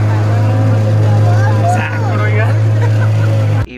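A motorboat engine drones steadily and loudly at a river elephant camp at Dubare, carrying passengers across the water. Voices talk over the hum, and it cuts off abruptly near the end.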